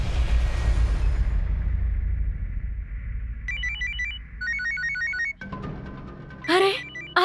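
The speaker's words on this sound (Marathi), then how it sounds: "आला वाटतं मुलीकडचा फोन" A telephone rings in a Marathi TV serial scene: an electronic ringtone chirps in repeated bursts partway through, after a loud low dramatic rumble and before sharp music stings, with no talking during the ring.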